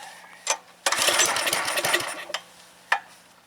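A log splitter's small engine sputters, catches and runs roughly for about a second, with choke adjustment, then drops to a few isolated bursts.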